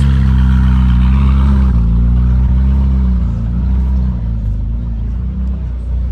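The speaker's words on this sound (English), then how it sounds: "We've got a nice Ferrari over here." A Ferrari engine rumbles close and loud with a deep, steady low drone, its pitch easing slightly as the revs settle toward the end.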